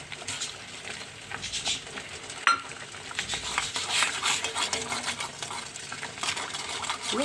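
Melted soap mixed with ground neem leaves is stirred in a pot for homemade neem soap, making a continuous close-up scraping and sloshing with uneven rhythm and one sharper knock partway through.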